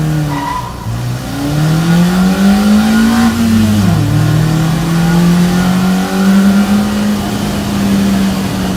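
A Honda CR-Z hybrid engine revs up loudly and accelerates, its pitch climbing and dipping through gear changes, continuous and close for several seconds.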